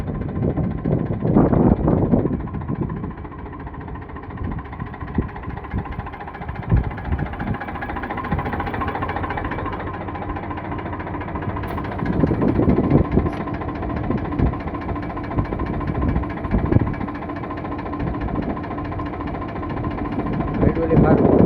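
An Eicher 485 tractor idles nearby, a steady low diesel thrum running the whole time while people talk over it in intermittent bursts.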